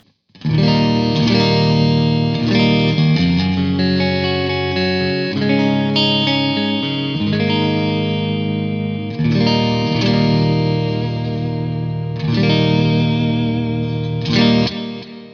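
Distorted 2020 Charvel Pro-Mod San Dimas electric guitar, switch in middle position on the humbucker's outside coil, rings out sustained chords with a slightly thinner, brighter tone, changing chords every couple of seconds, loud and close with effects.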